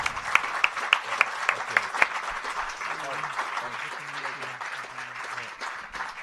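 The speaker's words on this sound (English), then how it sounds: "I would ask a very warm applause for Paul de Grauwe" A debate audience gives a round of applause, starting with a few distinct claps in a steady rhythm that blend into a moderate wash of clapping while someone talks over it.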